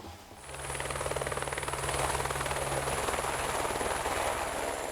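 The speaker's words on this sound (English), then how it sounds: "A helicopter transported the inspectors for the ground observations" Steady rhythmic thumping of helicopter rotors with a high engine whine, loud and continuous throughout.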